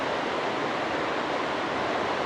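Whitewater rapids on a mountain creek near Taos roar steadily at close range, a continuous broadband rush of churning water with no voices.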